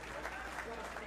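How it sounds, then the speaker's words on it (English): Steady crowd applause at a WXC 94 cage fight after a rear naked choke submission, dense and sustained from start to finish with no break. "please put a big round of applause together for both of the fighters in the center of the"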